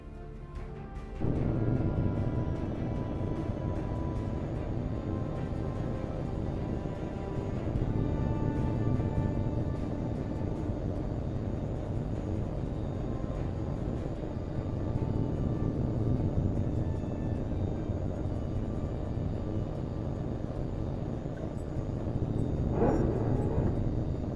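A jet aircraft in the video game Hawx 2 spools up for takeoff, a continuous loud engine roar and rumble that holds steady throughout, with no voices.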